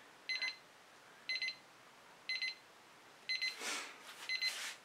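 A timer alarm goes off in evenly spaced pairs of bright electronic beeps, about once per second, moderately faint, with some rustling noise near the end.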